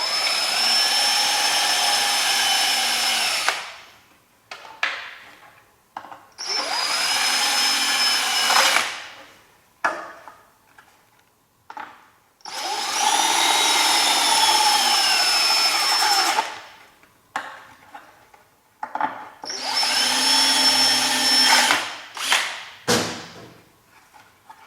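A power drill opens up holes in Honda CBR1000RR race bodywork to fit grommets, running in four long, close, loud bursts separated by pauses filled with small knocks and handling sounds.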